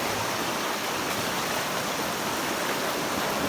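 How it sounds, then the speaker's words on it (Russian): River flowing through Charyn canyon in Kazakhstan: a constant, broad rushing wash of water, steady and fairly faint, with no voices. "красивая река тут, оказывается, течет"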